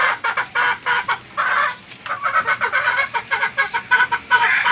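Gamefowl of the sweater type, Boston sweater hens among the new breeding stock, cluck and call in a farm coop, with nearly continuous, fairly loud bursts of fowl chatter and no one speaking.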